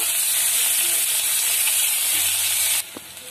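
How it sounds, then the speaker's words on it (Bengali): Chopped onion fries in a pan over caramelized sugar with a loud, dense sizzling hiss that cuts off sharply near the end, leaving quieter stirring clinks. "পেঁয়াজ কুচিটা লাল লাল করে ভেজে নেব।"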